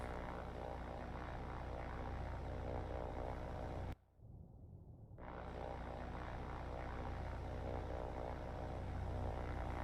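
Aircraft engine droning at full throttle in the naval combat game War on the Sea, a loud steady propeller roar that cuts out briefly midway and then swells back to a constant drone.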